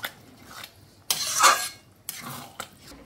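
Sago khichuri being stirred in a pot with a spoon, giving a few short scraping, clattering bursts separated by quiet gaps, close and moderately loud.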